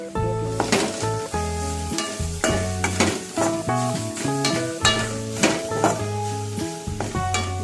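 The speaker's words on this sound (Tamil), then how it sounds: "நல்லா வதக்கிக்கணும்." Masi karuvadu, dried tuna, being sautéed in a pan for Tamil sambal: repeated stirring scrapes and clatters over a steady sizzle, with musical tones running underneath throughout.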